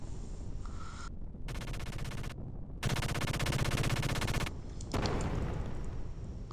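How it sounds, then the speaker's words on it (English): A big metal robot's machine gun in the game Xenogears rattles off in several sustained loud bursts, separated by short pauses and backed by an electronic hum. "A big metal robot shooting its machine gun at me"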